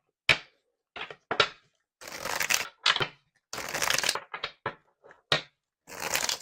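A deck of tarot cards is shuffled close by in a series of sharp crackling riffles and bursts separated by short silences, with no talking.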